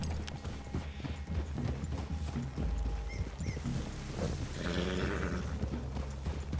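Horses' hooves clip-clop steadily near a forest clearing in Red Dead Redemption 2, several animals walking in a loose rhythm amid outdoor ambience and low rumbles.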